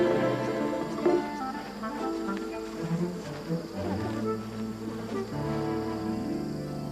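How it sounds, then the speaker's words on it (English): A swarm of bees buzzes continuously in the Manu rainforest of the Amazon, a dense, steady drone of many wings with shifting pitches, moderately loud and close, with no voices over it. "Alejo and his cousin Pedro allow themselves to be repeatedly stung by a swarm of bees."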